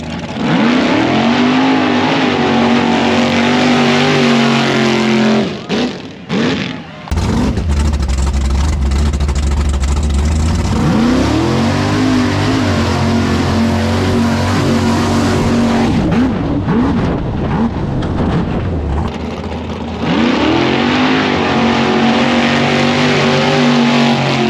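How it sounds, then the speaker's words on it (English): Truck engine at a mud bog in April 2023, roaring and revving hard through the mud pit in long loud surges with shifting pitch, briefly dropping off before climbing again. "Just give her some throttle."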